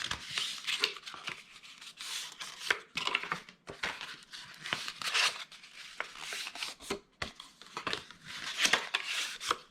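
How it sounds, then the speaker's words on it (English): Scored paper is folded and burnished by hand for a gift bag, making a steady, soft run of close scraping and rubbing strokes. "we're going to fold and burnish our scores"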